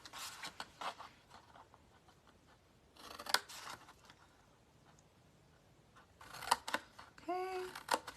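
Scissors snip through cardboard box tabs in short close bursts of crisp cuts, quiet pauses in between, then a final few snips with a light squeak.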